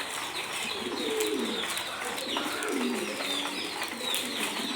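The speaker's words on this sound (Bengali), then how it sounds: "দেখেন এইভাবে প্রত্যেকটা খাবারে খাঁচায় কবুতরের খাবার খাইতেছে।" Caged farm pigeons coo repeatedly while feeding, their low, throaty calls rising and falling over a constant background rustle, with a few faint chirps and no talking.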